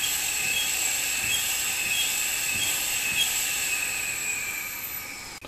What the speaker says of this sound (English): What you're hearing is the air rushing out of a single 1/4 inch brass tube on the bottom of the